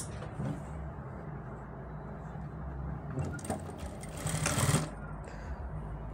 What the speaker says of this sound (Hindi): अब हम यहाँ से सिलाई स्टार्ट करेंगे